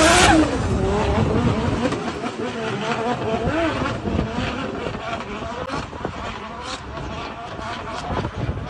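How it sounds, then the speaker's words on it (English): Car engine revving at the Japfest show at Silverstone circuit, a rising and falling engine drone heard from a distance amid crowd noise, with people talking nearby. "that sounds like my car, doesn't it?"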